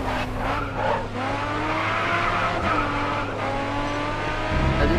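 Tires squeal and skid as a race car drifts through a corner in Grid Autosport, a continuous wavering screech over steady engine drone, loud and close with no talking.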